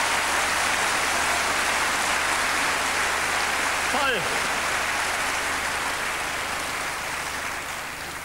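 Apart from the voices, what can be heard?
studio audience applause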